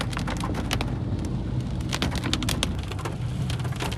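Light rain falling steadily during a road trip on a misty mountain road, a dense even patter of drops with scattered louder splats throughout, no talking.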